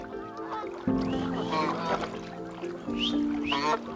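Geese swimming in an aviary give several loud, nasal honks in two short bursts over a steady low background, with faint talk mixed in.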